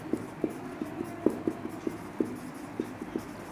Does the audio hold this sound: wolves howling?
no